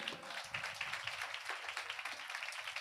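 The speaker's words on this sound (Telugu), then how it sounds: "చప్పట్లు కొడతారా?" A church congregation claps together in a steady, rapid patter that sounds faint and distant and continues without a pause.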